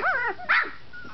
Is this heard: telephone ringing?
no